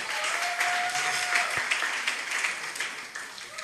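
Audience applause at a graduation ceremony in Kisumu, a steady wash of many hands clapping throughout, fairly close and continuous, with a faint tonal whistle briefly above it.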